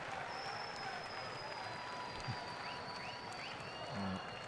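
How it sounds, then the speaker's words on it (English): Brazilian crowd at a Paralympic 5-a-side football match between Argentina and Mexico in Rio, a steady wash of applause and cheering filling the stadium, with brief thumps and faint whistles over the continuous crowd noise. "The Brazilian crowd giving some encouragement to the underdogs."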